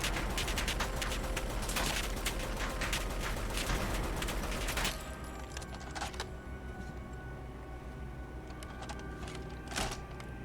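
A WW2 gun modded into Fallout 4 fires in a dense, continuous rapid stream for about five seconds, then quieter scattered shots and mechanical clicks follow, with no talk over it.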